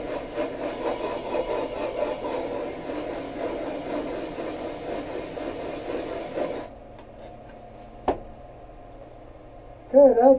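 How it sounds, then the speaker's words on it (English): A wooden turning blank, about three-quarters of an inch thick, rubbed flat with a sanding block, giving a steady, close scratchy rasp for several seconds. It stops abruptly, leaving a quiet background broken by a brief knock and a short sound at the end. "I'm going to sand it to make sure it's flat with a sanding block"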